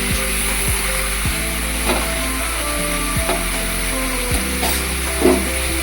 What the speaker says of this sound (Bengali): ভালো করে মাখানো হয়ে গেলে এটাকে কষাতে হবে একটুখানি ধরে